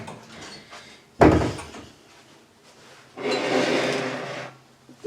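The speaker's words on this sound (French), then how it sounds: "Je vais ouvrir à Orion et j'arrive tout de suite" A door being opened for a cat indoors, a sharp thud of the latch followed later by a longer scraping, sliding swing of the door, close and with no talk.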